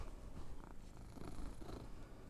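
A cat purrs close up in a steady, rumbling drone that rises and falls with each breath for the whole stretch, with no talking.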